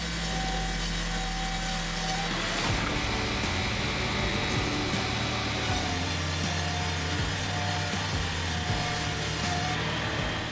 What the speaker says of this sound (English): the Vance Grinder takes just minutes to reduce substantial logs into manageable pieces